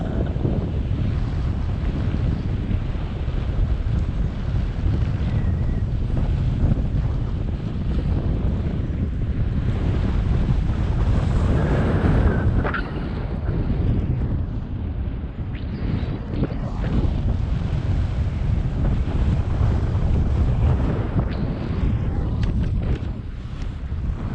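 Strong wind roars and buffets the microphone during a paragliding flight over Pokhara, Nepal, a constant loud rumble lasting throughout with gusty swells and no voices.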